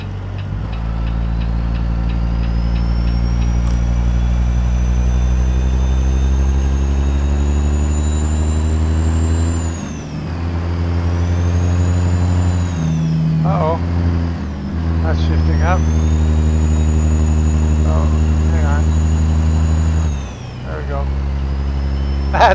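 A heavy truck's diesel engine drives in American Truck Simulator on a special transport job, its loud steady drone rising in pitch through the gears with brief dips at shifts, under occasional talk.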